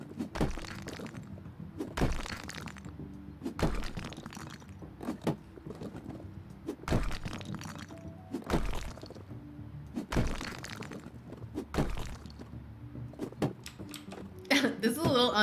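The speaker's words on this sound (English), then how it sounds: "I really love the sound of it, like, all shattering." Demolition in the video game House Flipper, with repeated loud cracking and shattering crashes of broken objects at irregular intervals of a second or two, close and prominent, and a few lighter clatters toward the end.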